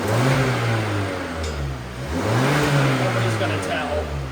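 Mazda engine idling and revving after an exhaust rebuild, steady mid-pitched drone rising and falling in a couple of throttle swells, close and loud with faint background noise.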